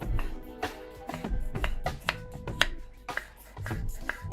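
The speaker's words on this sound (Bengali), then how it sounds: "এবার 4টে পাকা টমেটো আমি কুচিয়ে নিচ্ছি।" Ripe tomatoes being chopped on a board produce a close, irregular series of sharp knife taps, about a dozen crisp strikes with short pauses between bursts.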